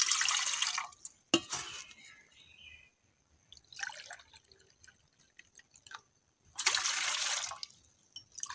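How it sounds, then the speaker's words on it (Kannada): Water poured into a cooking pot for three glasses of lemon tea, heard as three separate splashing bursts with dripping and light clinks in the quieter gaps between them. "ನೀರನ್ನು ಈ ಪಾತ್ರೆಗೆ ಹಾಕುತ್ತಿದ್ದೇನೆ."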